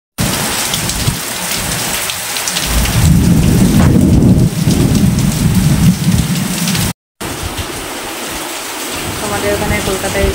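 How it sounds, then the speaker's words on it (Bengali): A thunderstorm in Kolkata with heavy rain roaring steadily on surfaces and deep rumbling thunder swelling loud in the middle, then a brief cut before the downpour continues. "ভীষণ জোরে মেঘ ডাকছে, বাজ করছে, বিদ্যুৎ চমকাচ্ছে।"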